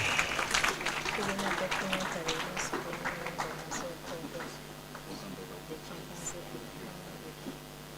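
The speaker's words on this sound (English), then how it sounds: "Another round of applause" Applause at a 25th anniversary celebration of Ngamba Island Chimpanzee Sanctuary, scattered clapping that is fuller at first and thins out, with voices talking over it and a steady hum underneath.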